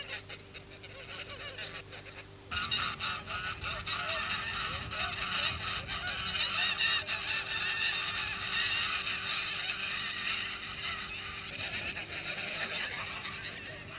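Ganders honk continuously at gander fights in Çorum, Turkey, a dense outdoor chorus of many birds at once that grows louder partway through, with crowd noise underneath.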